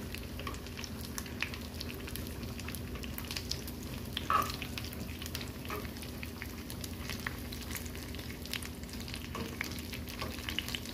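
Shrimp frying in hot oil for a crispy fried shrimp dish: a steady, dense sizzle and crackle with faint stirring clinks, close and continuous, no talk.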